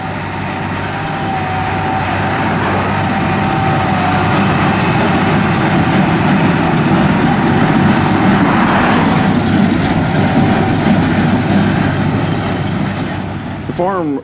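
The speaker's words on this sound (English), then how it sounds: "The farm also uses its 200 PTO horsepower John Deere 8300" A 200 PTO horsepower John Deere 8300 tractor, built 1995–1999, running a 348 hay baler on a farm, giving a steady loud low engine drone with mechanical rumble, held at constant level throughout.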